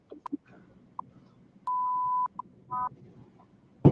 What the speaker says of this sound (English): That's the beeping one for the cursing we did.